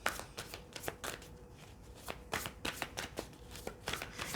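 Tarot cards are handled and drawn at close range, giving quick papery flicks and slaps in an uneven rhythm, quiet and without talk.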